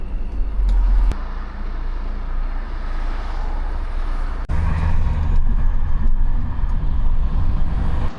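Blanquita, a truck with an ongoing fault that feels choked or clogged, accelerates on the road with a loud low engine roar and road noise that surges after a brief dip midway, with no talk.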